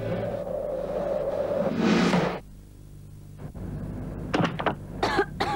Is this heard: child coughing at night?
yes